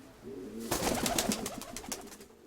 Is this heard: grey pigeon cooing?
yes